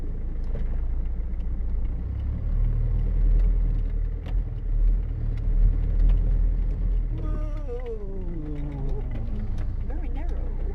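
Car rolling slowly along a narrow, secluded road, its low engine rumble and tyre noise steady throughout, with a person talking over it partway through.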